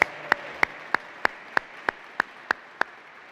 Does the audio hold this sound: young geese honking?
no